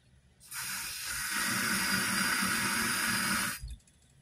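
A continuous loud hiss of steam or spray from a coffee machine making coffee runs for about three seconds, close by, then cuts off abruptly with a small thump.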